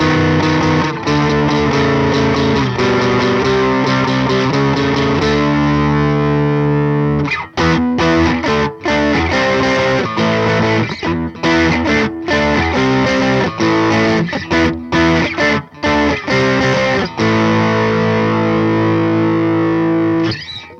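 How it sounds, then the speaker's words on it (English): Electric guitar played through the super overdrive setting of a BOSS Plugout FX PX-1 pedal, loud and continuous, with sustained distorted chords giving way to choppy, rhythmic stabs and short breaks. "The super overdrive."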